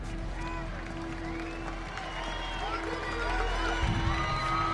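A parade crowd cheers for the Mystic Falls High School football team at the Founders' Day parade, a steady, moderately distant wash of voices and scattered clapping that swells slightly near the end, with a low hum underneath.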